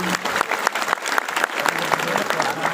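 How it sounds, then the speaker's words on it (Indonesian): Crowd of parents and students clapping together at an Islamic religious gathering marking a high school's 40th anniversary, a brisk, steady round of applause heard up close. "Tepuk tangan sepindah-pindah."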